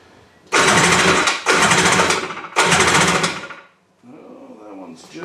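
A Tiger Shark 900 jet ski engine cranks during a compression test, three loud rhythmic bursts of starter churning about a second each, followed by a quieter stretch where a voice speaks.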